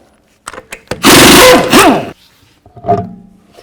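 Removal of a wheel from a 2007-16 GMC Acadia with a 22mm socket, heard as a loud burst of power-tool whirring lasting about a second, framed by a few clicks and clunks before and a short mechanical rattle after.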